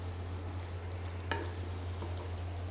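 Fried bitter gourd pickle with asafoetida being stirred in an oily pan, a soft steady sizzle with a single sharper scrape of the spoon partway through, close and unaccompanied by voices.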